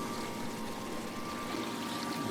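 Protein skimmer running in a home aquarium, churning and aerating the tank water with a steady close bubbling, pouring rush and a faint pump hum throughout.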